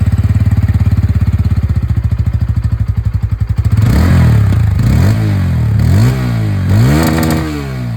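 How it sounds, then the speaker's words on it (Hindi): A Bajaj Pulsar N160 motorcycle with an underbelly exhaust idles in a fast, even putter, then revs in several loud, close rising-and-falling blips. "तो एक बार इसकी जो आवाज़ है दोस्तों वो भी मैं सुना दूँ, स्टार्ट करेंगे विद दिस N160।"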